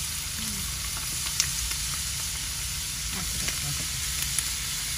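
Shrimp frying in hot oil in a pan for bhorta, producing a loud, continuous sizzle with faint stirring scrapes and occasional small pops. No one speaks.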